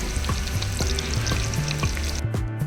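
Chopped onions and green chillies sizzle steadily in hot oil, with occasional stirring clinks against the pan, loud and close with no voices.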